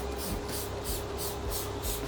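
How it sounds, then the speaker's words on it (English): Chocolate Thunder tire cleaner sprayed from a trigger bottle onto half of a car tire, a steady close hiss with faint rhythmic pulses of repeated trigger pulls, no voices. "I'm going to spray Chocolate Thunder on that half"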